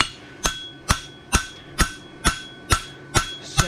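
A hammer forges a horseshoe on the horn of an anvil, striking eight times in an even rhythm of roughly two blows per second. Each blow rings sharply and briefly and is heard alone.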